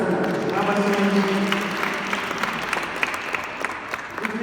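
Audience applause at a children's patronage closing celebration, a steady wash of clapping that stays fairly loud throughout, with some voices and tones mixed in.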